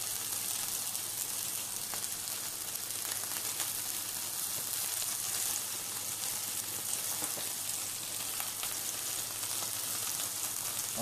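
Steaks topped with melting raclette cheese sizzle steadily in a frying pan, a dense, even hiss like light rain that holds at a constant level throughout, close by, with no talk.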